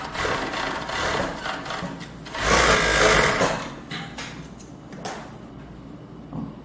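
Sewing machine running steadily while stitching the side seam of a pair of underwear, a continuous near mechanical whirr with a louder burst midway and short pauses toward the end, no voices.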